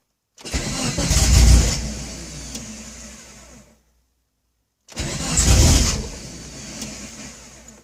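A car engine fitted with an upgraded E85 fuel system cranks and fires up loud and close, runs briefly, cuts out, then starts again and settles into a steady run.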